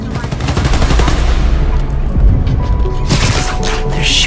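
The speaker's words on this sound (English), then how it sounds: "They're shooting transmitters." Rapid gunfire aimed at transmitters in Spider-Man: Miles Morales, a dense burst of shots running continuously under game sound and music, loud and close.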